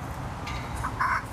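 A person imitates a chicken with a couple of short, clucking vocal bursts, close and fairly loud over a steady noisy room background.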